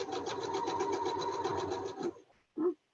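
A sewing machine stitches in a fast, even rhythmic chatter for about two seconds, then stops, leaving a brief mechanical clunk after the run.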